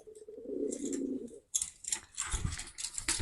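A pigeon or dove coos softly in a low, steady warble at close range, followed by brief rustling and scraping noises, with no voices.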